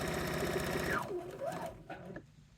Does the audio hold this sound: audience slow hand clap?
no